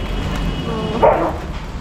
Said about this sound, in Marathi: न्यू डॉग आमच्या सोसायटीचे.